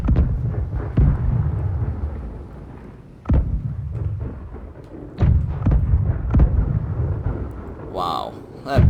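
Cannon fire in a naval battle video game with Russian ships, repeated heavy booming blasts at irregular intervals, each followed by rumbling decay, with a brief tonal sound near the end.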